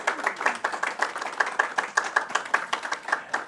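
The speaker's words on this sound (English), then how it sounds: "Please give her a round of applause." Several people clap in uneven, steady bursts at a women's empowerment and education leadership event, filling a few seconds with crisp, moderately close hand claps and no talking.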